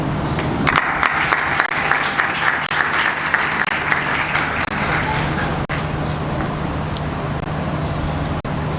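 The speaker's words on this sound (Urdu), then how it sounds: "یہ تالیاں اس لیے بجی ہیں کہ آپ کے کلام کو میرے لوگوں نے سمجھ لیا ہے" Church congregation applauding at a Sunday worship service, a broad steady wash of clapping hands that holds through the whole stretch with a low hum beneath, fairly loud and sustained without talk over it.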